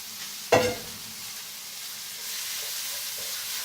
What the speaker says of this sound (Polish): Jak przesmażymy, to wydobędziemy lepszy smak z tego wszystkiego